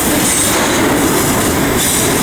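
A CSX freight train passes close by at a railway station, a loud, steady roar of rolling cars and wheels with a faint squeal, no voices.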